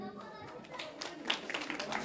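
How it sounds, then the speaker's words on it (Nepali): An audience claps at an outdoor volleyball tournament as players are introduced, with scattered, steady hand claps rising in density under an announcer's voice over a loudspeaker. "जोरसँगले ताली मारिदिने"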